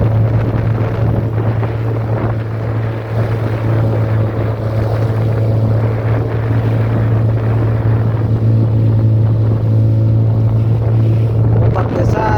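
A boat at sea rides out a strong southerly wind and big waves, the engine droning at a constant pitch under loud, continuous wind buffeting the microphone.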